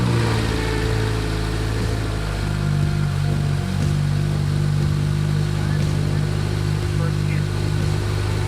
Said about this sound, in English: Start it up. Keep it in neutral.